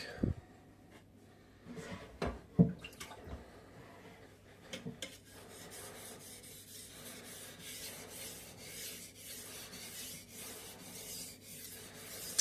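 A kitchen knife being sharpened on a whetstone, a few sharp knocks and scrapes at first, then a long run of rhythmic rasping strokes of the blade across the stone, close and moderately loud.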